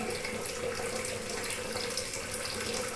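A kitchen tap runs steadily while a freshly sharpened knife is rinsed, making a continuous gush of water with a few small splashes. No speech.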